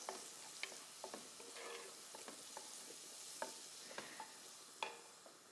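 Dried and green onions frying in a pan, heard as a faint, continuous sizzle with scattered light stirring clicks and taps throughout, and no one talking.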